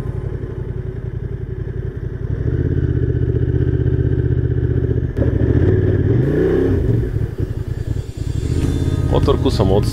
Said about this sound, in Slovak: Motorku som odstavil, išiel som aj do kaplnky,